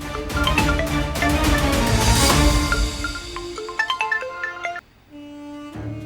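A phone ringtone plays loudly, a melodic electronic tune with steady tones over a busy background, then it cuts off briefly near the end before a softer tone resumes.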